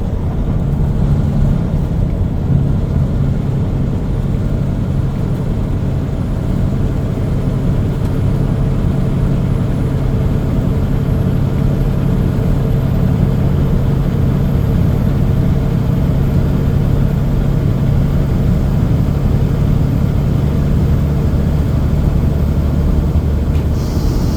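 A truck engine drones steadily while driving along a road in Oregon, a loud, constant low hum and rumble heard from inside the cab.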